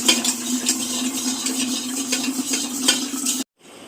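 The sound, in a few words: stirring a drink with a spoon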